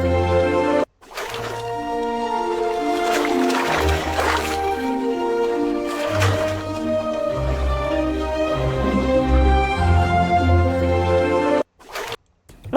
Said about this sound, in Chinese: 落水的声音和交响乐的